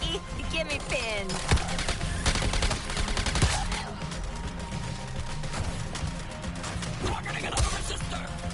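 Rapid bursts of gunfire crackle continuously through a Suicide Squad Kill the Justice League battle, dense and busy with overlapping shots and impacts, while voices talk over the action.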